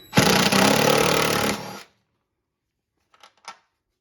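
A power wrench running a nut off the transmission ground strap of a Toyota Tundra: one steady loud whir lasting under two seconds, followed after a pause by two short faint clicks.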